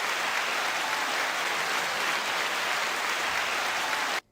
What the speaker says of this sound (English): Brother, nice applause.